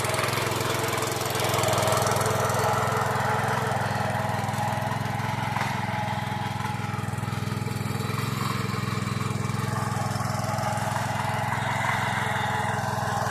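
A vehicle engine runs steadily while being driven, a loud constant low drone with rough mechanical clatter and wind noise that barely changes over the whole stretch, no voices.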